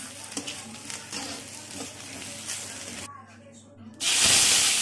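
Onion and garlic fry in a pan with a steady sizzle and scattered stirring scrapes, then a sudden louder hiss bursts up at the end as more goes into the hot oil.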